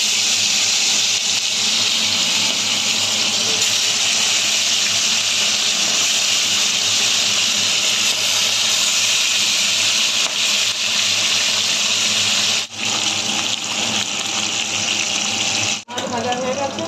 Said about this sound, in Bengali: তেল গরম হয়ে গেছে, এবার মাছ দিয়ে দিলাম।